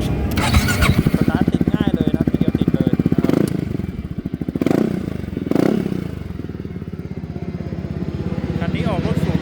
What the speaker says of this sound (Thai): เดี๋ยวเรามาฟังเสียงเครื่องยนต์ดูนะครับ